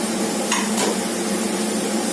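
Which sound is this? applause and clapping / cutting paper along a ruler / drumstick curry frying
drumstick curry frying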